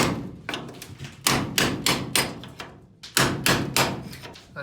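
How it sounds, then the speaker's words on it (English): A hammer drives a cold chisel against rivets inside the cladding of a vintage caravan being converted into a food van, giving loud, close metallic blows in two quick bursts of about five strikes each, separated by a brief pause. "And again, you just do that with the cold chisel."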